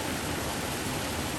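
Steady broadband rushing of river water flowing at Cumberland Falls, even and continuous, with no voices or other sounds.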